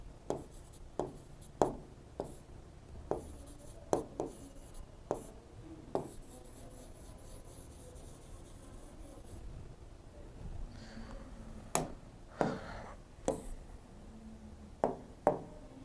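Pen on paper writing notes in a quiet room, with bursts of scratchy strokes and taps, some sharp and close, separated by short pauses and a quieter stretch midway.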